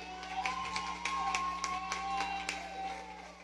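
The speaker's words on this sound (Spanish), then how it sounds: "Un aplauso por favor para mi padre." Scattered handclaps ring out from a gathered crowd at a tribute event for a guitarist, a few distinct sharp claps over a faint sustained tone and light background murmur.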